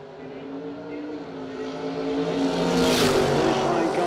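A drag racing roadster makes its solo bye run down the strip at the Bernie Mann Memorial No Delay Nationals, a steady engine roar that builds louder toward the end, with faint talk underneath.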